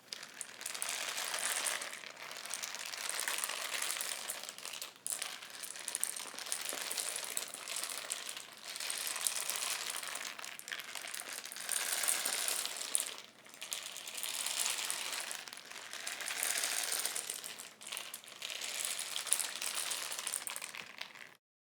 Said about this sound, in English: Rain sticks can sound different depending on what you add inside. Today, this is the sound that I created.